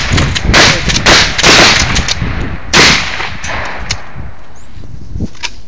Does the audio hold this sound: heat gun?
no